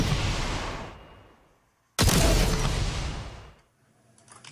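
Two heavy blasts of a sci-fi weapon shot in Warframe, each a sudden loud burst decaying over about a second and a half, with a brief silence between.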